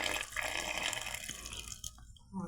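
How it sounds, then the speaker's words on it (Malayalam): Milk pours in a steady, close liquid stream into a container while a sharjah milkshake is made, fading out near the end. "ഇങ്ങനെ നമ്മൾ പാലൊഴിച്ച് കൊടുക്കുകയാണ്."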